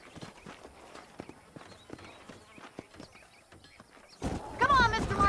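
Horse hooves clip-clopping in Red Dead Redemption, a series of sharp irregular knocks at moderate distance, fairly quiet, before a louder burst of sound near the end.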